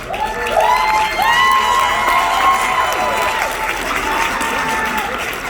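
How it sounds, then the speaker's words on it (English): Audience at a Crowne Plaza hotel event applauding and cheering as a couple stands, with steady clapping, scattered whoops and a few raised voices calling out above it. "So Lou and Tracy Humphrey, can you all stand up so we need your round of applause?"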